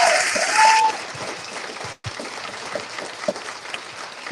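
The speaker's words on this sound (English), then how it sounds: "We need to clap for Massimo and his wife and family." Applause from a crowd at a school board event for a local restaurant owner and his family, a loud burst of broadband clapping at the start that settles into steady, softer crowd noise, with a brief cut near the middle.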